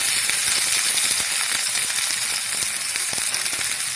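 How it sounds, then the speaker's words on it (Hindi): Onion fried to light golden in hot oil sizzles steadily with garlic, ginger and green chilli paste added, a dense continuous crackle close by with small spits and stirring scrapes throughout. "अब मैं इसमें लहसुन अदरक और हरी मिर्चों की पेस्ट डाल दूँगी"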